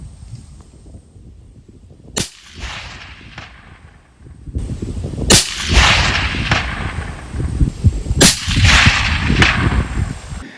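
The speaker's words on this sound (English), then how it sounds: "So we're going to shoot at our 6-inch target and see what we get." Tikka T3X rifle in 6.5 Creedmoor fired at a 300-yard target outdoors, three sharp loud cracks spaced a few seconds apart, each followed by a rolling echo over steady background noise.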